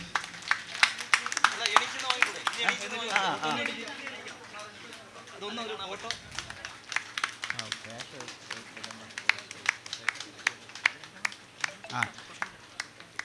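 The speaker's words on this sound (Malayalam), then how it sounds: "ഒന്ന് കൈയടിച്ചു." Audience clapping at a Prem Nazir fans' cultural association award ceremony as an MLA hands over an award statuette, scattered sharp claps running through the second half beneath a voice on the hall's sound system.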